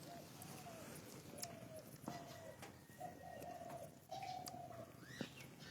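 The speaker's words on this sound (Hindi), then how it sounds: "चिड़ियों की चहचहाहट" Pigeons coo again and again at a quiet outdoor spot, soft, rolling calls spaced a second or so apart, with scattered sharp chirps from other birds, all faint and somewhat distant.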